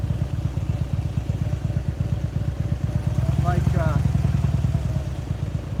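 A motorcycle engine runs close by with a rapid, steady thumping beat, rising briefly in loudness midway before settling back, under faint background noise.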